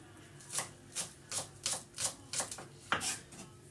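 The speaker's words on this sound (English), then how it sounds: "I'm going to cut them up into little rings" A knife chops through scallions, the whitish parts, into little rings on a cutting board for Korean fish omelette parcels, giving about eight crisp, evenly spaced slicing taps, close and clear with no talking.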